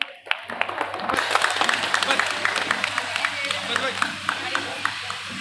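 Audience applause at a retirement ceremony for an RTC Greater Hyderabad zone executive director, sustained clapping from a crowd building after a quiet start and continuing steadily throughout, fairly close and loud.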